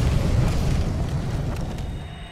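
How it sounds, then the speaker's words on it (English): An explosion in the video game Dark Souls 3 roars out as a heavy, rumbling blast that rolls on and slowly fades over a couple of seconds, loud and close. "Literally just like an explosion right beside him."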